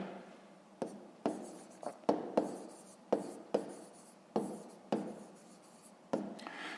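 Pen writing on paper during a fifth-grade maths exercise, with about a dozen short scratchy strokes in an irregular rhythm, close and fairly quiet, with no voice.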